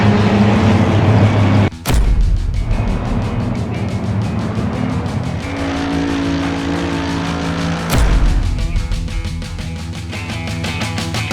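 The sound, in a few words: race cars starting, Assetto Corsa Competizione video game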